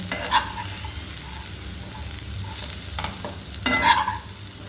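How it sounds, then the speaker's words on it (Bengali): Cauliflower singara filling with garam masala powder is stirred in a pan, a few scraping strokes of the spoon standing out over a soft, steady sizzle, with no talk. "গরম মশলার গুঁড়ো দিয়ে ভালো করে ওটাকে নেড়ে আমি নামিয়ে রাখবো"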